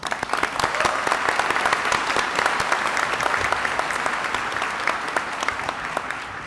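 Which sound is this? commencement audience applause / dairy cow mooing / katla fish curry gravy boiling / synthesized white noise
commencement audience applause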